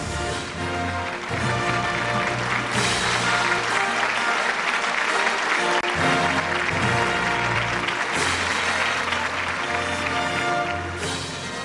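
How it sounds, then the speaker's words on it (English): Loud, continuous applause fills an awards ceremony hall, blended with music playing underneath and holding steady throughout. "a big round of applause for Zareen Larwal"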